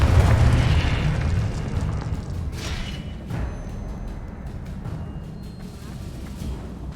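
Spell blasts from the Confringo blasting curse in a wizard video game, a heavy low boom up front that rumbles on, followed by a few softer bursts and crackles under game music and ambience.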